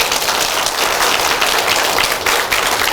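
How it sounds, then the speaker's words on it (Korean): A church congregation at Gangneung Antioch Church breaks into applause during a Sunday service, a thick, even wash of many hands clapping together, loud and close throughout with no voices over it. "하나님께 영광의 박수 한번 올려드립니다"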